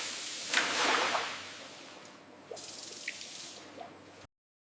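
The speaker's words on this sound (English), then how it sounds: "A final rinse prepares the tomatoes for processing." Water rinses tomatoes in a factory washing system, giving faint, spattering splashes and drips in two rushing bursts over a low, steady machine hum before cutting off.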